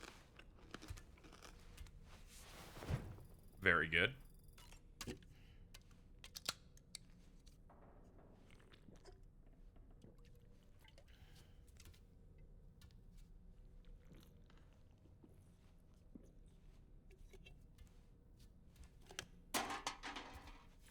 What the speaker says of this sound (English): let me eat this worm with the crunchy noise